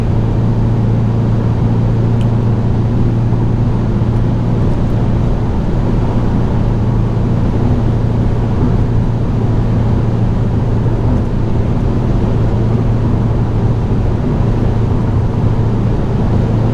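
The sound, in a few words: Hyundai i20N car driving at high speed on motorway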